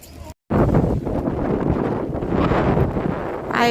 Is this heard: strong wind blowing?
yes